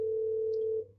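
A steady telephone tone holds for almost a second at an even pitch, then cuts off and fades quickly, heard clearly on its own with no talking.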